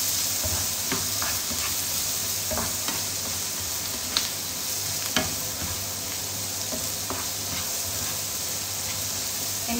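Powdered garlic frying in a pan before prawns go in, a loud steady hissing sizzle throughout with scattered light taps and scrapes of a spatula.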